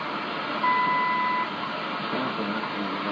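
A single steady radio time signal beep sounds for under a second at 0108 UTC over a constant hiss of shortwave radio static.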